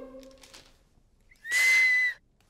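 A faint voice or two early on, then one shrill, steady blast from a party-favour toy whistle lasting about half a second, loud and close.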